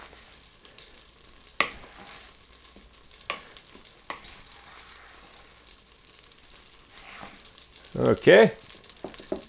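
Meat sizzles softly in a pan and is tossed with a flour mixture, giving sparse scrapes and clatters and a louder burst of stirring near the end, with a brief spoken word.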